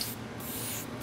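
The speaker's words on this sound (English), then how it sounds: "The tricks I've learned through airbrushing classes and seminars is to start and stop, and don't continuous spray." An airbrush sprays colour onto a tiered cake at a cake-decorating competition: a steady, close, breathy hiss broken by two brief pauses as the spray starts and stops.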